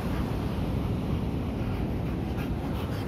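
Steady wind buffets the microphone on a coastal cliff trail near the northern lighthouse at Laguna, Santa Catarina, a continuous low roaring rush that holds level and close for the whole span with no voices.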